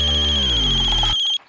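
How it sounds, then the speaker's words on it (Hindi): A mobile phone ringtone chirps loudly in a rapid repeating electronic pattern over a low hum, cutting off abruptly near the end. "फोन की घंटी यहाँ बज रही है"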